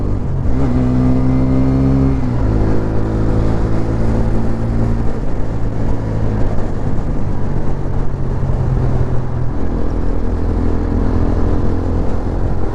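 A 2024 TVS Apache RTR 160 4V motorcycle with dual-channel ABS is revved up close. Its engine rises and falls in pitch through repeated throttle blips, then settles into a loud, sustained buzz with no talk.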